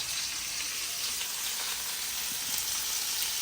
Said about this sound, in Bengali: ফ্রাই করে করে এখানে রাখতেছি, মাছ ফ্রাই করে তুলছি।